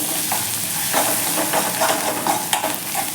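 A spiced mixture with coriander leaves is stirred in a hot pan and sizzles steadily, with a spoon scraping and rustling at close range and no talking.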